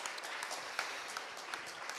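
Steady applause from a crowd at an IT student trophy ceremony, a dense patter of clapping throughout, fairly distant and even.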